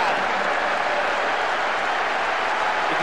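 A stadium crowd of fans in PES 2009 on PS2 roars and applauds after a goal, a dense, loud, continuous wash of cheering with no break.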